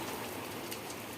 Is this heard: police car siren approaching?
no